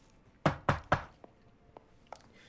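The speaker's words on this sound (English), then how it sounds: "you should knock on my door" Three firm knocks on a door in the detective game LA Noire, close and evenly spaced, followed by a couple of faint taps and then quiet.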